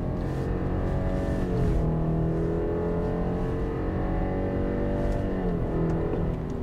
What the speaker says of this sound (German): So, und beschleunigen einmal nochmal nach oben durch